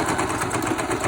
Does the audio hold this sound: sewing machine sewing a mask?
yes